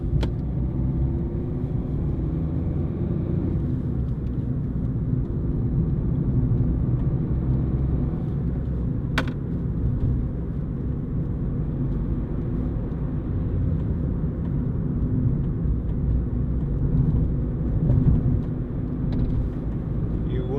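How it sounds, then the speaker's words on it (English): A Ford Fiesta 1.4 TDCi diesel panel van drives along, its engine a steady low rumble with road noise filling the cabin throughout, loud and continuous with no gaps. "Little economical diesel, very, very handy thing to have."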